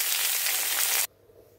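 Bottle gourd pieces sizzle loudly in a hot pan with a steady, broad frying hiss that cuts off abruptly after about a second, leaving near silence.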